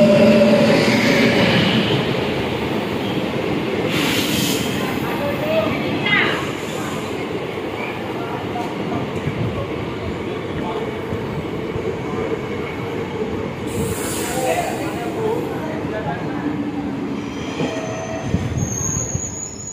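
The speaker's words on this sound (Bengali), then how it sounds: "চৌড়িগাছা থেকে আমাদের ট্রেন ছেড়ে দিল আজিমগঞ্জ জংশনের উদ্দেশ্যে" Passenger train on the Katwa–Azimganj line at Chowrigacha station in West Bengal, a steady loud rumble of rolling wagons with wheel squeal and brief clatter, sustained throughout with a faint voice in the background.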